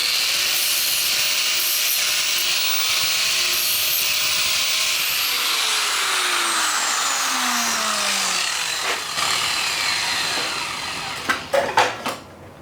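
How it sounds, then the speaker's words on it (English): An angle grinder works over a utility trailer ramp with a steady, high abrasive whine that winds down near the end, followed by a few sharp clanks of metal handling. "let me grab my grinder and just smooth this out a little bit"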